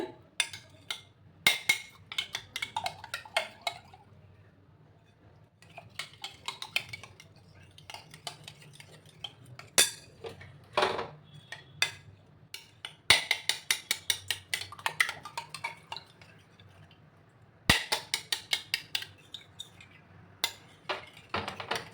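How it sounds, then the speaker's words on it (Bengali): A fork beats eggs seasoned with ground black pepper in a bowl, making rapid rhythmic clinks against the sides that come in quick bursts separated by short pauses, close and fairly loud. "গোলমরিচের গুঁড়ো দিয়ে দিলাম, দিয়ে ভালো করে এটাকে ফেটিয়ে নেব"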